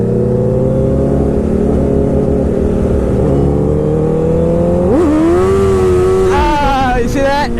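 A motorcycle with HESD accelerates to pass another rider, a loud steady engine drone that climbs sharply in pitch with rising revs near the end, with a rider talking over it.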